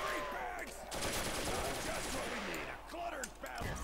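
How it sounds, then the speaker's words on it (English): Thompson submachine gun fire in a Call of Duty custom zombies match, rapid bursts of gunfire crackling steadily through the clip amid game noise and chaotic creature sounds. "Let's use my Thompson to clear them out."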